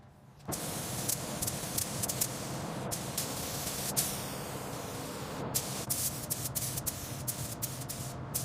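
Gloss paint sprayed onto the cockpit of a restored Batmobile, a steady close hiss that starts abruptly and holds for several seconds, with short pauses and bursts along the way.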